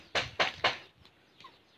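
Hens in a rural provincial yard give three quick, loud clucks in a row, followed by a couple of fainter, softer calls as the sound trails off.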